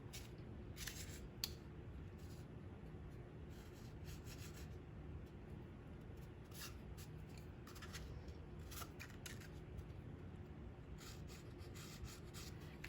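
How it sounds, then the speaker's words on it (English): Slits are cut into thick cardboard for a cardboard T-Rex model, giving quiet scratchy cutting and rubbing strokes in short irregular bursts over a low steady background, with no talking. "So I need to make 2 slits on opposite sides that go about 1/2 inch in."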